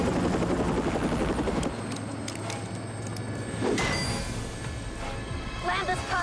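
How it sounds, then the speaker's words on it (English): A helicopter in flight drones steadily with a low, continuous rotor and engine rumble, while voices talk tensely over the noise throughout. "Land this copter, General."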